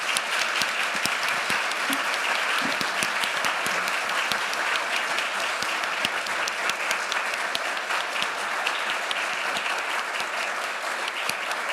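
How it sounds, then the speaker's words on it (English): Sustained applause from a ballroom audience thanking a panel at a prize event's morning discussion, a long, even roar of many hands clapping with scattered sharper claps near the front. "Let's give our panel a round of applause."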